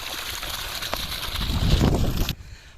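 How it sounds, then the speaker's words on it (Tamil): Water gushing steadily from a 2-inch borewell pump outlet on a farm, a broad close hissing splash that swells louder toward the end before cutting off abruptly. "2 இன்ச்சு தண்ணி விழுந்துட்டே இருக்குங்க."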